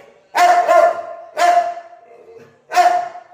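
A dog barks three times at a steady pace, each bark loud, close and sharp with short silent gaps between, and no other sound around it.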